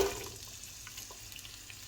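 Chopped onions frying in hot oil for shahi haleem give a steady, soft sizzling hiss, faint and continuous, with no voices.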